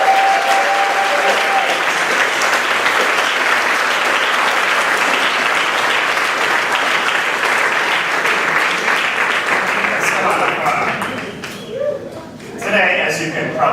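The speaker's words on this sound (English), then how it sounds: "Can you all give me a big round of applause for Professors Virek, Schuster, and Schmitz?" Sustained applause from a classroom audience honoring professors before a physics quiz event, dense and steady for about eleven seconds, then thinning into scattered claps and murmuring voices.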